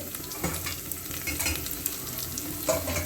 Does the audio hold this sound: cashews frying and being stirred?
yes